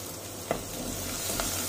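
Small shallots and a sprig of curry leaves sizzle in a pan for vadai mor kulambu, a soft steady frying hiss with two brief stirring scrapes, close but fairly quiet.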